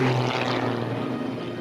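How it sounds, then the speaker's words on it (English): A propeller-driven aerobatic race plane at full throttle during an air race at Ascot, England, makes a loud, steady engine roar with a low droning hum that holds throughout, close and unbroken. "And here comes Nigel Lamb now, full throttle"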